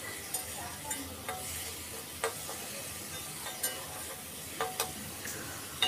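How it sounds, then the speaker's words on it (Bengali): Fish for a mixed-fish curry frying in hot oil until crisp: a steady, soft sizzle with scattered sharp pops and crackles spread across the whole stretch, no voices. "সেটাকেও আমি তেলের মধ্যে ভেজে নেব। একদম এটাকে আমি একটু মুচমুচে করে ভেজে নেব।"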